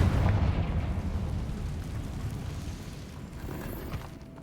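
A Confringo fire spell in the video game Hogwarts Legacy bursts near a cave, producing a loud, rumbling explosion that slowly decays into a low roar over several seconds.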